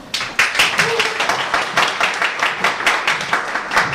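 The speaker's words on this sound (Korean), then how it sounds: "큰 박수로 맞아주시기 바랍니다" Steady applause from a lecture audience welcoming a speaker fills the whole stretch, dense clapping with rhythmic swells and no voices rising above it.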